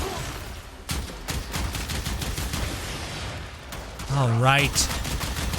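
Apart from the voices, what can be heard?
gunfire from a weapon in the Warframe video game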